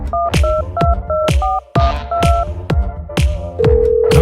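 Telephone keypad tones beep in a quick, evenly spaced sequence of paired pitches, loud and close, ending in a longer steady tone, with no voices over them.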